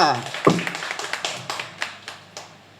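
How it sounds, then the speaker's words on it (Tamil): A small audience at an astrology lecture gives a brief round of sparse hand claps, a few distinct claps spaced out and tapering off, with a voice briefly heard at the start. "அதுக்கும் ஒரு கைத்தட்டல் கொடுங்க"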